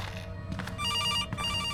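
Telephone ringing in the horror video game CASE Animatronics, set in a police station: a loud electronic ring sounding in two bursts with a brief gap between, alone with no voices.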